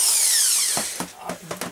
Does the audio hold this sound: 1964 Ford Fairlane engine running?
no